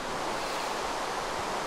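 Steady broadband water wash after spawning in water in the Minecraft video game, a continuous surf-like rush heard alone at an even level with no talk.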